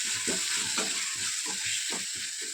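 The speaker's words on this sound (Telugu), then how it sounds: "టమాటా సాఫ్ట్ అయ్యేంత వరకు మనము కలుపుకుంటూ మగ్గించుకోవాలి" Small-cut chopped tomatoes fry in a pan over turmeric, giving a steady close sizzle broken by repeated rhythmic scraping strokes of stirring, with no talking.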